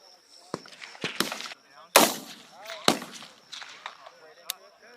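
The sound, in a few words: rifle gunfire on a Marine rifle range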